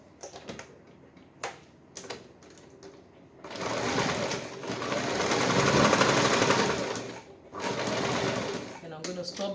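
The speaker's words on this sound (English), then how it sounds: "Following the seam allowance, I'm just going to sew in about 2 inches." A sewing machine stitches the panels of a strapless bustier top in a steady whirring run of rapid needle clicks, sustained for a few seconds, briefly pausing, then resuming up close, after a stretch of soft talking and handling at the start.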